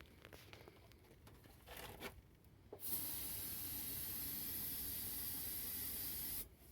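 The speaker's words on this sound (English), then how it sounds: "spray a ton of it in the air intake" Aerosol spray can blasting steadily into the air intake of a stalled 671 diesel engine, a loud continuous hiss lasting several seconds after some handling noise.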